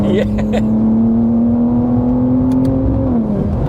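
A 610 bhp Clubsport-spec BMW G87 M2 accelerates along a road, a steady, loud engine drone rising slightly in pitch before easing off, with subtle intake noise.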